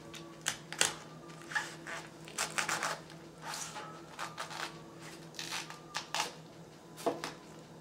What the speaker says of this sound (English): We are going to cut it in half, being very careful, of course.